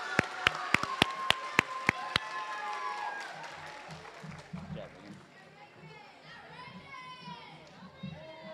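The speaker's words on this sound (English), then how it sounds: "We're going to give it a round of applause for everybody for the Math Achievement Awards." Several sharp, evenly spaced claps ring out near the start at a seventh-grade school awards ceremony for Math Achievement Award winners, then give way to a busy hum of children's voices and chatter.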